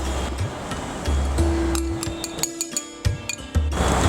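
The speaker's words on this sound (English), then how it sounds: "At this point of time, I'm going to add the almonds." Almonds tumble into melted chocolate in a pan with sharp clinks and knocks against the metal, plus irregular scraping and stirring clatter, close and fairly loud with no voices.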